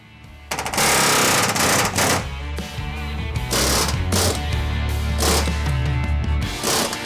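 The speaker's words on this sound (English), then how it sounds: "So it's time for some air chiseling, some grinding" An air chisel hammers at the back panels of a mini school bus during a roof-raise teardown: loud, rapid pneumatic chattering in long sustained bursts with brief pauses, close up and harsh, with no talk.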